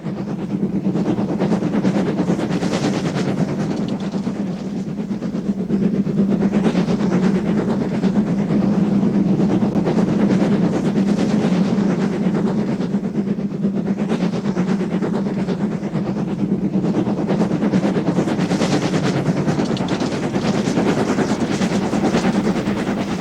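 LNER steam locomotive 65882 hauls a train of empty coal wagons up the line toward Silksworth Colliery, a loud, continuous rumble with rhythmic clattering of wheels and wagons that surges in waves.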